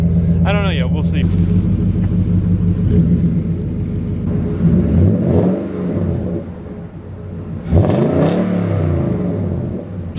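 Nissan Titan V8 with a new partial exhaust and the muffler still fitted revs up and down in several swelling pulls, deep but fairly subdued, close by, with a person talking over it.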